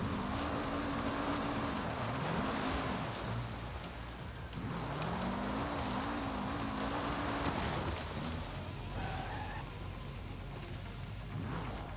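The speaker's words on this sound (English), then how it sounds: "Loving the tire screeching noise on dirt" Tires screech on dirt in a racing video game, a steady wavering squeal over continuous engine roar that lasts the whole stretch, loud and close with brief dips.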